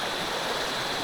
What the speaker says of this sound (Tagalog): Parang ilog.